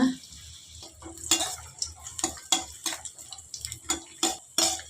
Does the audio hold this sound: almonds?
yes